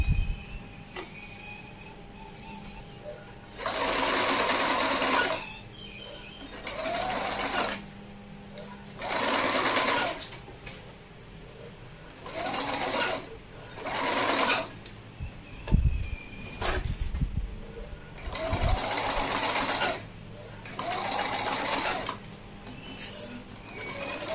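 A sewing machine stitches satin fabric in repeated bursts of fast whirring, each run lasting a couple of seconds with pauses between, with faint handling noises in the gaps.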